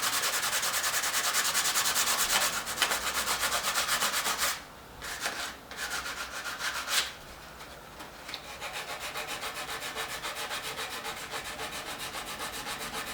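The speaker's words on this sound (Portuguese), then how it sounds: "Nesse caso aqui, vou aproveitar e vou lixar aqui" Hand sanding of a sculpture being finished, a steady rasping rub that continues close and fairly loud throughout, with two brief pauses near the middle before the strokes resume.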